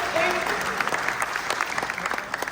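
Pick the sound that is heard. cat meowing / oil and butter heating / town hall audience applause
town hall audience applause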